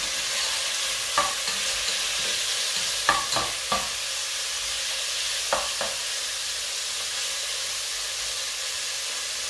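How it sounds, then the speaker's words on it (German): Pieces of Ufak Köfte meat fry in a pan with a steady sizzle, while a utensil stirs and scrapes them in a few sharp clacks, close and alone with no talk. "Auch nicht so lange braten"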